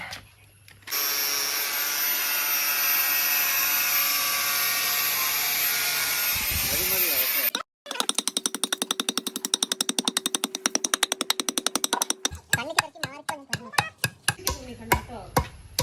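A power tool cuts along a pencil line marked on a piece of teak: a loud, steady motor whine holds for about seven seconds, then gives way to rapid, rhythmic cutting pulses that thin into scattered knocks.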